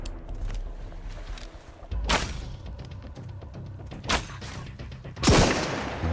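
Several loud gunshot blasts from the video game Sunkenland, spaced irregularly with sharp cracks and booming tails over a low background of game noise.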